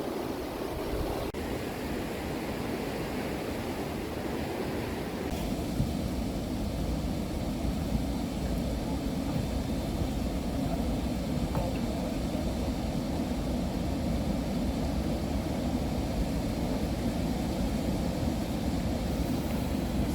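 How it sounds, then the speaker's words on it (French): Steady rushing and churning water fills the scene as a canal lock empties, a constant broad roar like water draining hard, with a faint thump near the start. "on vide l'écluse pour amener le niveau entre les deux portes au niveau de l'aval"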